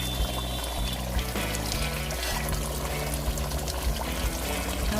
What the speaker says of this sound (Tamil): இப்போ வந்து லெமன் ஊற்றிடலாம்.